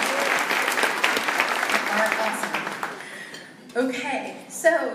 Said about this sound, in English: So let's give them a little round of applause.